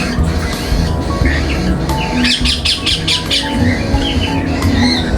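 An African grey parrot squawks and chirps in several loud, close calls, with a short cluster of harsh cries in the middle.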